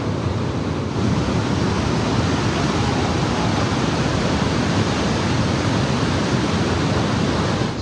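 A powerful waterfall thunders down nearby, a loud, continuous broadband roar of crashing water with no break, heard up close and alone.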